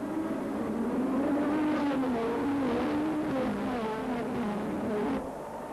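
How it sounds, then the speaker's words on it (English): 1986 Formula 1 race cars roar off the start line together, a loud sustained engine drone with rising pitch as they accelerate, continuous and close with no talk, easing slightly at the end. "At the green light, Mansell outdragged Senna towards the first corner."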